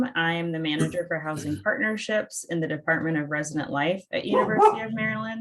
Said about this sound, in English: I have a dog in here, so my apologies for the barking